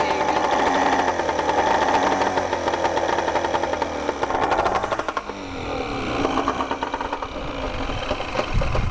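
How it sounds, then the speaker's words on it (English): A small boat engine that had been hard to start running with a rapid mechanical chatter, steady at first, then stumbling and uneven before continuing to run roughly. "the engine started after it wouldn't start for ages"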